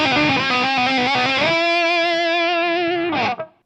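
A heavily distorted electric guitar plays a riff, choppy picked notes giving way to a long sustained ringing chord that is cut off abruptly, with no voices.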